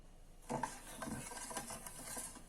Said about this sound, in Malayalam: പാല് നല്ലതായിട്ട് ഇളക്കിക്കൊണ്ട് ഇരിക്കണം